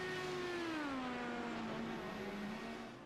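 An IndyCar-style race car of the CART Crown Athletics series, driven by David Cook Jr., screams down the front straightaway toward the start-finish line at Willow Springs, Rosamond, its high engine note steady then slowly dropping in pitch as it passes and fades.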